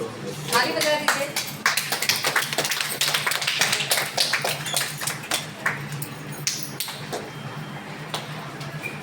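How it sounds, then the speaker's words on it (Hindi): An audience at an old age home claps at a Father's Day gathering, sustained close applause with voices mixed in throughout. "ताली बजा दीजिए।"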